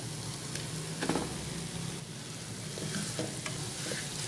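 Khoya being stirred into carrot halwa (gajar ka halwa) as it fries in a pan, a steady close scraping and stirring over a continuous soft sizzle, with a few louder knocks near the start.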